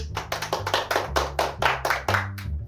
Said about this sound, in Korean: 그동안 임시반장이었던 영웅이한테 박수!